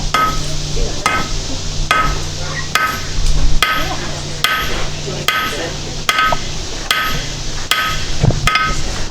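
A blacksmith's hammer strikes hot metal in sharp blows at a steady pace, about ten strikes with bright ringing tones, over a constant low hum.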